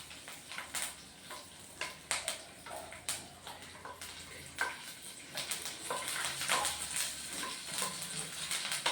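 Oil crackles and spits steadily in a pan, with sharp pops scattered throughout as curry leaves fry, close and moderately loud, no voices.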